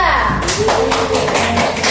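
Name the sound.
applause for a group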